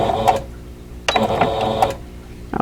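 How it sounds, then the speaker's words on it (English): A sewing machine stitches a few stitches forward and then back while embroidering quilt blocks, producing two close runs of rapid mechanical whirring and clatter with a short pause between them and a brief restart at the end. "I'm going to go forward a few stitches and back a few stitches."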